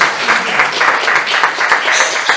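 An audience at a youth summit claps steadily and fairly loudly, a dense patter of many hands sustained for a couple of seconds with no talk.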